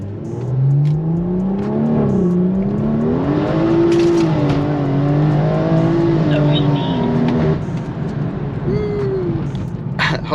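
A BMW M240i engine revs and pulls hard under acceleration in first gear, its pitch rising steadily, loud and close, with a brief drop near the end.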